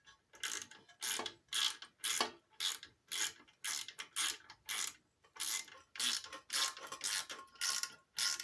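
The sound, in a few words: ratchet turning a carburetor mounting bolt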